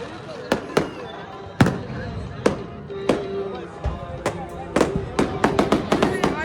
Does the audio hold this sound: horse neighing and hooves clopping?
no